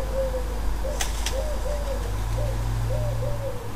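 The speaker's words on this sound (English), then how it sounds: "This wood pigeon is nesting nearby." A wood pigeon coos from a nearby nest in a repeated series of soft, hollow calls over a steady low background hum, with a couple of brief sharp knocks early on.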